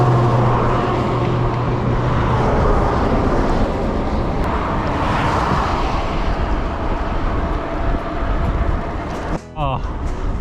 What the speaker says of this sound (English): even with the highway noise